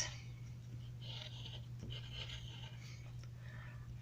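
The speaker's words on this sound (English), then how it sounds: "notice I'm using my best handwriting" Pencil handwriting on paper sounds as faint, close scratching strokes under a steady background hum, with short pauses between words.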